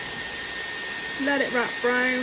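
A Dyson Airwrap hair styler blowing on heat at full speed makes a steady loud whooshing hum close by, while someone talks over it.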